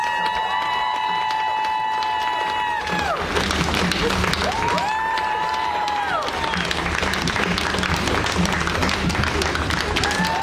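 Audience applause after a handstand at an outdoor morning exercise session, clapping swelling into a broad continuous crowd roar, with a voice talking over the start and sustained rumbling noise throughout.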